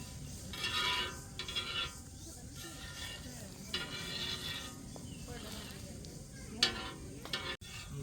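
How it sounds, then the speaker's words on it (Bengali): Chicken and egg sandwiches fry in a pan with a faint, steady sizzle, broken by scraping and stirring strokes and a few sharp clinks, heard close and soft. "আমরা স্যান্ডউইচগুলো সুন্দরভাবে ভেজে নিব যেন না পুড়ে।"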